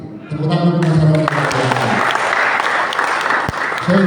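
A community crowd at a public gathering breaks into loud, sustained applause that follows a voice and continues to the end.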